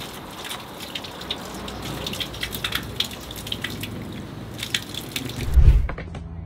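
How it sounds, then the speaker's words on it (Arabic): Tap water runs steadily from a faucet at Ertugrul's tomb, a fixture built by Sultan Abdul Hamid II, with close splashing and dripping throughout and a louder splash just before the end. "حتى هاي الحنفية هو السلطان عبد الحميد الثاني هو اللي عمر الحنفية"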